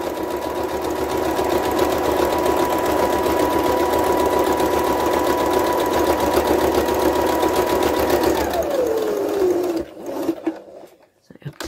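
A sewing machine runs steadily at speed, stitching across the gap in a fabric face covering, loud and close with a continuous whirring hum that winds down near the end before a few faint handling noises.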